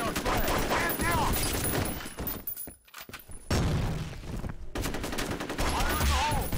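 Dense gunfire and explosive bursts in the online shooter F.E.A.R. Combat during a capture-the-flag match, loud and continuous with a brief lull midway before the shooting resumes, with radio-style voice callouts mixed in.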